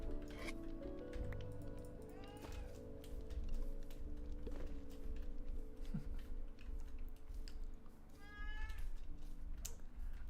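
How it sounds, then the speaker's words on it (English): A domestic cat meows in the room during a Minecraft session, several short meows spread across the stretch, some rising and falling, over a steady background hum with faint clicks. "But you might be hearing my cat"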